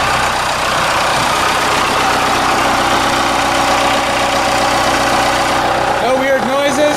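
A car engine idles steadily under the open hood after alternator work restored the lights, a continuous even rumble with no change in pace, and a few faint higher sounds near the end.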